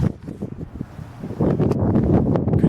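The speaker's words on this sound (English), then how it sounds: "It's a little windy outside" Gusty wind blows across the microphone outdoors at a house construction site, buffeting in irregular, rumbling bursts that grow stronger and more continuous partway through.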